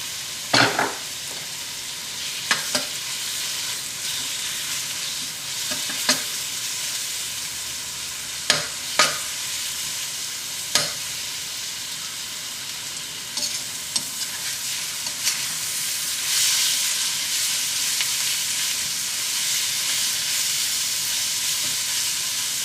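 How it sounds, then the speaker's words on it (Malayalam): Ginger garlic paste frying with onions in a pot for egg biryani, a loud continuous hissing sizzle with sharp spoon clanks against the pan every few seconds, close up and without speech. "ഇഞ്ചി വെളുത്തുള്ളി നന്നായിട്ട് മൊരിയുന്നത് വരെ നമുക്കൊന്ന് ഇളക്കി കൊടുക്കാം."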